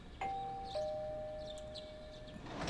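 Doorbell in Persona 4 Golden, a clean electronic two-tone chime with a soft higher ding followed by a sustained lower tone, fairly quiet against a light background.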